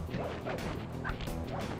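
A dog barks in the PlayStation 3 platform game Sly Raccoon from The Sly Collection, giving a few short yips and bow-wows mixed with thuds over a dense, loud game soundscape.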